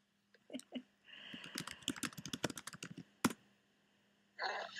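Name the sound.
typing on a computer keyboard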